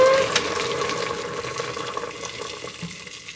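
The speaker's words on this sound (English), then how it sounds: "my dad's going to pour the water in for me" Water poured from a tap into a soup pot, a steady splashing stream with the pitch shifting as the pot fills, close and alone.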